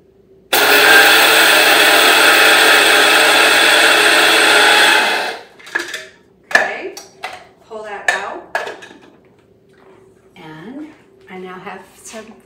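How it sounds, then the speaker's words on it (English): Electric grinder whizzing flaxseed in a removable chamber, a loud steady whirring roar of about four and a half seconds that cuts off, followed by clattering handling noises and talking. "So I just dump my flaxseed into here and pop it back in the grinder"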